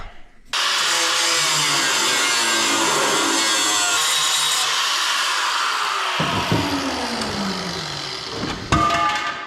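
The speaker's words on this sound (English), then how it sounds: "So let's grind that off." An angle grinder cuts into a rusty, scrapped metal part, starting abruptly with a loud, steady high-pitched whine that holds for several seconds, then wavers and shifts in pitch as the disc bites, close to the microphone with no talking.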